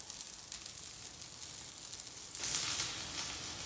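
Potato tikki patties fry in coconut oil in a pan with a steady, close hiss and crackle. The sizzling grows louder and brighter partway through, and no one speaks.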